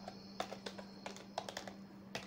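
Typing on a computer keyboard while entering an item name in an Excel stock sheet, a quiet close run of irregular clicking keystrokes with no speech.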